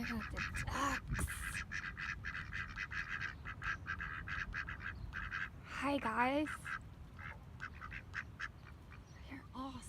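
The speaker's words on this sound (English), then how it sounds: "I got the ducks." Ducks quacking close by in Tasmania, a run of rapid nasal quacks with a louder descending honking call midway, while someone speaks briefly over them.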